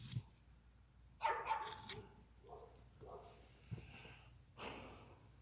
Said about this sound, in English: The dog.